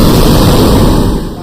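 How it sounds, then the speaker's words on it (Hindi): A loud explosion sound effect in a fan narration of the manhwa The Beginning After the End hits as a heavy, booming blast that rumbles on for about a second before tailing off. "धमाके की वजह से एलिस गिरने वाली रहती है"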